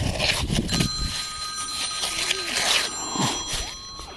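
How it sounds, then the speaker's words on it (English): Phone ringing during a foreshore metal detecting hunt, a faint repeated electronic ring sitting under outdoor noise and rustling. "I gotta answer this phone call."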